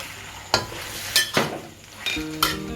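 Beef fried rice being stirred in a hot pan after red chilli, dark soy and oyster sauces go in: sizzling with several sharp scraping strokes of a utensil against the pan, close and fairly loud, with no talking.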